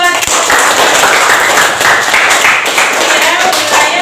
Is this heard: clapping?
yes